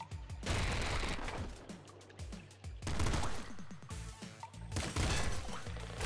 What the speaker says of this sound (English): Spiral slash shotgun, yes.